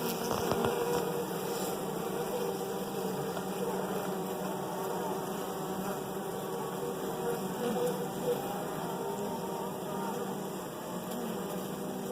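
Honeybees hum steadily inside a hive during a hive split, a soft continuous buzzing drone that stays even throughout with no speech over it.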